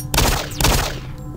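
Pistol fire in the video game Doom 3: two loud, sharp shots about half a second apart, each with a brief ringing tail, close and with no talking over them.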